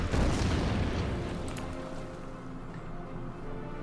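A tank shot and explosion from the Order of Battle wargame, one loud boom at the start whose rumble slowly dies away, followed by a faint sharp crack.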